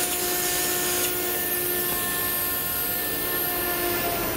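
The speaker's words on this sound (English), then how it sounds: "And finally, vacuum." A vacuum cleaner nozzle clears dust from a drilled anchor hole in concrete with a continuous, loud hissing whine and faint tonal hum.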